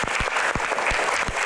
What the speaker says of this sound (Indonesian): tepuk tangan untuk box podium.